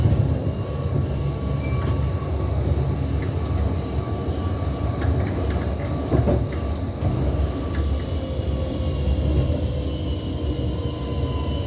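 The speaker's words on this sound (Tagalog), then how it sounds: "May train na naman sa kabila." A commuter train rumbles past on the opposite track, heard from aboard another train as a loud, steady roar of wheels and rail with faint clicks and squeals, continuous throughout with no talk.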